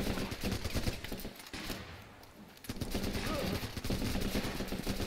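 Suppressing gunfire in the video game Running With Rifles, rapid rattling automatic bursts at moderate distance, dropping briefly to a lull midway before the firing resumes steadily.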